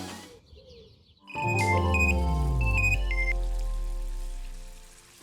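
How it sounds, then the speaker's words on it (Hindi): A phone ringtone bursts in after a brief quiet stretch, playing a loud, steady electronic melody of stepping high tones that carries on for several seconds with no talking over it. "किसका फोन है?"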